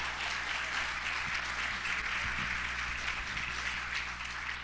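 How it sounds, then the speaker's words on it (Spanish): A church congregation applauds in worship, a continuous wash of clapping that sits at a moderate distance over a steady low hum for the whole stretch. "Dale una ofrenda de palmas al Rey de Reyes"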